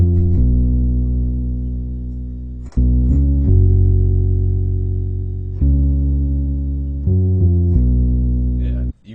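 A warm synth with a light chorus effect plays sustained chords for an Empire State of Mind style beat, with several long held notes changing in steps and gently decaying, clean and close.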